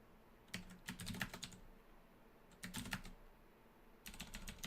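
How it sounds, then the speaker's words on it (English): Fingers tap a computer keyboard while a Dungeon Crawl Stone Soup game is played, in three short quick bursts of clicking keys separated by pauses, quiet and close with no talk. "Fat fingering the keyboard a bit"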